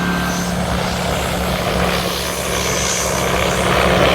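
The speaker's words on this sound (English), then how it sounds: "we're going to see just how good a job drone does on defoliating cotton" An agricultural spray drone flies over a cotton field while defoliating it, making a continuous loud, buzzing rotor drone that stays steady and close throughout.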